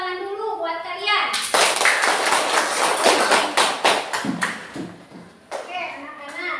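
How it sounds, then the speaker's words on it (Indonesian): Children in a classroom clap together for several seconds, a dense burst of handclaps that thins into scattered claps, with a teacher's voice speaking before and after. "Beri tepuk tangan dulu buat kalian."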